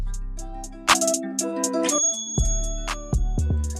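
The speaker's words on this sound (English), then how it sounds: "the software notifications will start running from my cell phone." Trading software notifications on a cell phone, a string of chimes and ringtone-like tones, several bright dings and short melodic alert bursts overlapping at irregular intervals.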